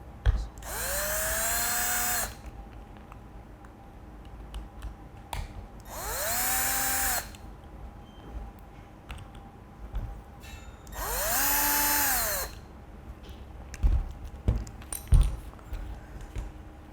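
A power driver unscrews T10 screws from a Milwaukee M18 hydraulic cable cutter during a teardown. Three separate whirring bursts of about two seconds each, close and loud, with quiet handling clicks between them.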